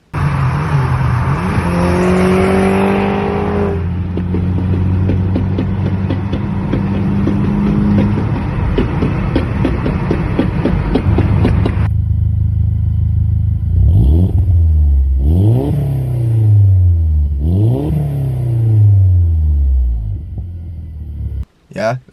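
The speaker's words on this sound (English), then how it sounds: "But this exhaust, I actually like how it sounds." A VW GTI with a 1.8T turbo engine idles and then revs repeatedly through its exhaust, with several loud rising and falling sweeps close by, and a voice speaking at points.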